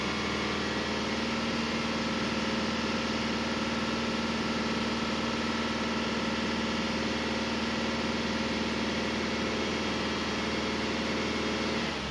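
Car engine held steady at raised revs of about 2,500 RPM, a constant droning hum with a fixed tone, steady and even for the whole stretch, no talking.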